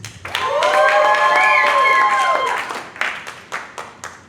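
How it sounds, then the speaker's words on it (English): A comedy club audience at an improv show applauds a contestant, a dense burst of clapping with a faint tonal sound mixed in, then thinning into scattered claps. "Clap it up for Wynton."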